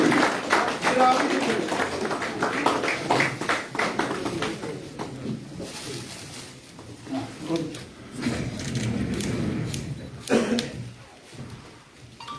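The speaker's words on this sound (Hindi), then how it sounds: "चलिए जोरदार तालियों से स्वागत" Clapping from a crowd welcoming new members into the BJP at a party event in Jammu and Kashmir, sustained applause mixed with talk and loud speech over it, with a louder burst near the end.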